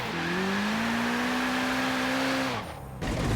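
A car in Forza Horizon 3 held at full throttle on a drift build, engine note sustained and slowly rising before abruptly cutting off, then picking back up faintly at the end.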